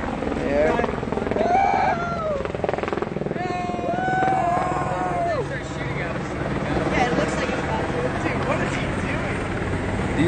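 A rescue helicopter flies over a Hurricane Harvey flood zone, its rotor thudding in a loud, continuous drone while people talk close by.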